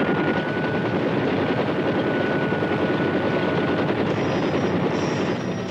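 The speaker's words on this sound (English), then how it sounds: "These choppers pack an impressive resource of firepower. The gunships strike quickly, with uncanny accuracy and formidable power." Military helicopter gunships over Vietnam war combat at Dak To in 1968, a loud continuous rotor and engine roar holding steady throughout, with a faint high whine entering near the end.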